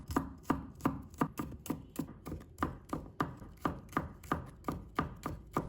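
A knife slices shallots on a cutting board in a home kitchen, each stroke a crisp, close thock that repeats in a steady, quick rhythm of about a dozen even cuts.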